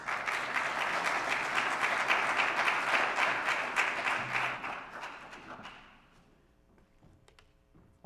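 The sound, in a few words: congregation applause as performers come up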